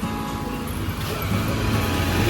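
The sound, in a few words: car passing fast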